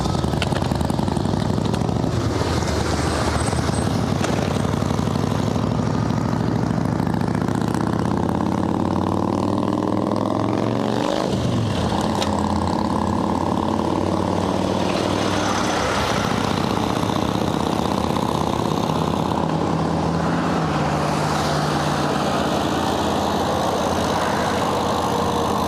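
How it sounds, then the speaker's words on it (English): Motorcycle engine fitted to a bicycle runs steadily and loud throughout, its drone rising and falling with throttle changes as it rides along, with no talking. "I put a motorcycle engine on my bicycle and call it a day"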